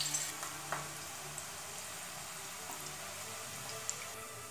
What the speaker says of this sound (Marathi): आपले तेल तापले की आपण एक उभा चिरलेला कांदा तेलामध्ये तांबूस रंगावर परतून घेणार आहोत